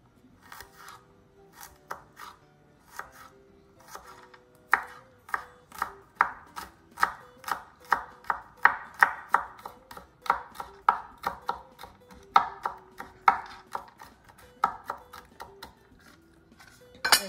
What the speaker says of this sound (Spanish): ahora cortaremos el ajo también en pedacitos bien pequeños.